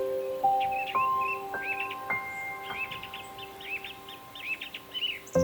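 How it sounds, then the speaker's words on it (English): Birds of paradise calling in untouched wilderness, a string of bright chirps and whistled notes repeating across the clip, mixed with clear ringing tones and a few sliding calls over a quiet background. "Behold the birds of paradise,"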